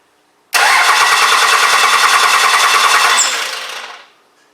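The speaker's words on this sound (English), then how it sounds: "I ran this wire directly to the small terminal on the starter, and I'm going to see if we can get this thing to crank." Cummins diesel engine cranking over on its starter, wired directly to the small starter terminal: a loud, steady rapid chugging that runs for about three seconds, then winds down and stops without catching.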